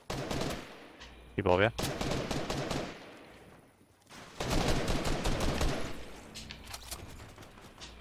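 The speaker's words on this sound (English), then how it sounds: "Shooting over there." Gunfire in a Fortnite Battle Royale match, with bursts of rapid shots loud and close, breaking off briefly and returning, mixed with game effects while a player talks over it.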